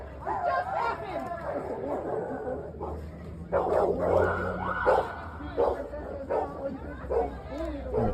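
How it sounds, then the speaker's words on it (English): Several dogs bark and yip repeatedly at a street protest outside 100 Montgomery, mixed with shouting and chatter from a crowd. "You have to sick dogs on people now?"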